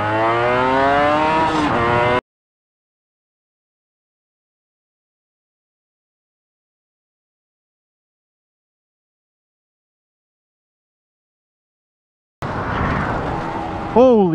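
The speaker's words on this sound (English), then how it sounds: "I can't launch this bike for shit though." A Honda NSR250 two-stroke motorcycle revs and accelerates hard off the line in short bursts, with a long silent gap between the opening and closing engine sounds and rising engine notes at the end.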